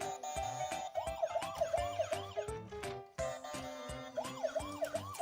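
A loud, continuous ambulance siren wails in a rapid rising-and-falling pattern, with a brief break midway before resuming, accompanied by rhythmic background beats.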